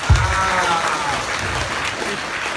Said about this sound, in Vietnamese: Hy vọng là các bạn cho mình một tràng vỗ tay để khích lệ ạ